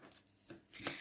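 A paper gift box being folded along its fold lines: a few faint, brief crisp rustles and creases of paper close by, with quiet pauses between them.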